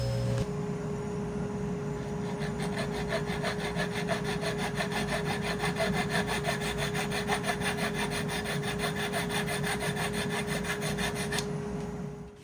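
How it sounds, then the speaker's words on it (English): A flush cut saw cuts off a wooden tenon in quick, rhythmic back-and-forth strokes, close and steady, with a faint electrical hum beneath, stopping near the end. "use a flush cut saw to chop off the rest of that tenon."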